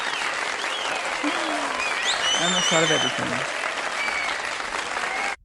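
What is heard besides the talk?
recorded applause sound effect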